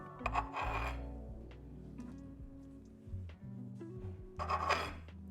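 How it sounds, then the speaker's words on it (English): A knife trims the edges off a caramel lamington sponge cake in close, scraping, rasping strokes. The strokes come in two bursts with softer rubbing and a few light taps between them, and there is no talk. "Before I cut them into 12, I'm just going to trim the edges off so it's nice and square and neat."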